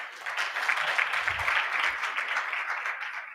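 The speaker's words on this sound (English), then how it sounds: "Another round of applause, please." Sustained applause from a conference audience at a civil society launch and dialogue event in South Africa, a dense steady wash of many hands clapping at moderate distance with no speech over it.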